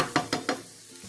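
Yam fries in a pan with three quick scraping stirs in rapid succession, then a soft, steady sizzle continues.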